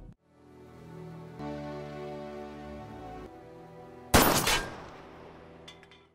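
A single sharp, loud gunshot rings out during shooting practice, cutting through steady tonal music in the background and trailing off with a short echo.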